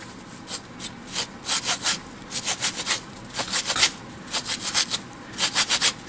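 Dollar-store nail sander rubbed back and forth across a shabby chic craft flower, giving short scratchy strokes in uneven bursts, close and fairly quiet with no talking.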